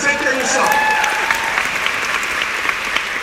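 Crowd at a Rise 2019 motivational talk breaks into loud, steady applause with some cheering and voices over it, the clapping holding strong throughout.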